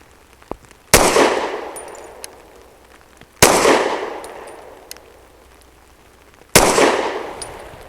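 Three loud, sharp pistol shots fired from a BUL Armory Ultralight with 115 grain jacketed hollow points, spaced a few seconds apart. Each crack has a metallic ring from the steel target and a decaying echo outdoors.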